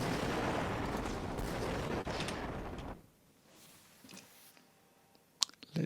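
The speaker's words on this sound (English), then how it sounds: "So I've got my rocket launcher, and let's shoot it there." A rocket launcher fires in the game Crayta, a loud dense roar lasting about three seconds that cuts off abruptly into near silence, followed by a faint sharp pop near the end.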